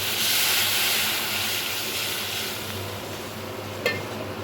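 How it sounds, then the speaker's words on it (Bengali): Water hits a hot pan of fried spice paste for a thin fish curry and sets off a loud, steady hiss that eases slightly over several seconds. The sound is close, with a small clink near the end and no voices. "এবার দিয়ে দেব পরিমাণ মতো জল।"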